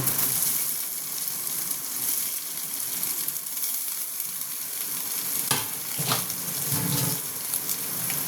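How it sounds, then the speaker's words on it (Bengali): Grated soybean fries in a pan with a loud, continuous hiss and crackle, close up, with a couple of brief scraping stirs toward the end and no voices. "এটাকে ভালো মতন ভাজবো"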